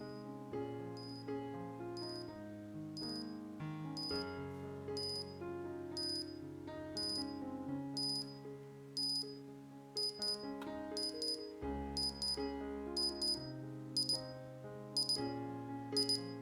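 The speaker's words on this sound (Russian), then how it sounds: "смотрим, как будильник начинает работу. Начинается с тихой громкости, постепенно увеличивая как громкость и увеличивая интенсивность звукового сигнала." An alarm clock plays a repeating electronic beeping melody with sharp high chimes over lower tones. It starts quiet and steadily grows louder and more insistent, with no voices.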